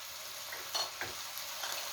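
Squid and fish cake stir-fried in a pan until nearly dry, a soft steady sizzle with a few faint scrapes and clicks from a utensil, fairly quiet and without talking.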